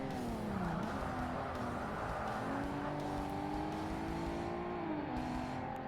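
A race car engine in Forza Motorsport, running at sustained high revs with a steady loud drone and rising and falling pitch through gear changes, plus faint tire noise and no talk.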